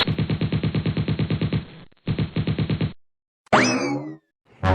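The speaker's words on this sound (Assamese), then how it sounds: "এয়া দেখোন ভূতে গুলী মাৰিছে, মানে জকাটোৱে।" A cartoon skeleton ghost fires a gun in a rapid burst of regular, punchy shots, then a shorter second burst after a brief gap, followed by a springy twanging effect and another hit.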